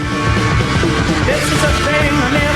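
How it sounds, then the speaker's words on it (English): A 1972 rock track plays loud and dense, heavy swirling Hammond organ over a steady driving beat, with no talking. "swirling Hammond organ and that driving beat."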